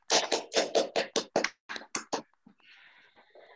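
An audience at a panel event on partnerships for the Sustainable Development Goals applauds the panelists. About a dozen sharp, distinct claps come close together, then thin out into a few softer, scattered claps that fade.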